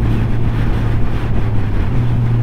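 A Suzuki Katana motorcycle engine hums loudly while accelerating for an overtake, with a brief shift in tone near the end and heavy wind noise throughout.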